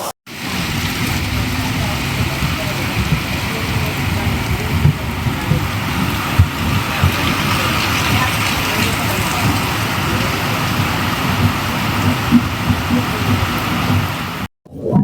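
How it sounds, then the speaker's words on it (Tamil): Heavy rain pours without a break outside the Mysuru to Tuticorin Express overnight sleeper train in Karnataka. It makes a dense, loud, continuous hiss with a low rumble underneath for the whole stretch. "மைசூர்ல இருந்து மழை பொழந்து கட்டிட்டு இருக்குங்க"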